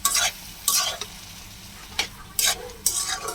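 Pumpkin fries in a pan with garlic, cumin, green chili and ginger, making a soft background sizzle cut by several sharp bursts of stirring and scraping at an irregular rhythm, with no voices.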